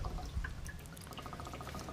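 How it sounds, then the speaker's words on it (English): Water draining from a camper's holding tank, a close, steady pouring trickle with small splashes and drips over a low rumbling flow, no voices. "Right now it's gonna drain just the water that's in the tank"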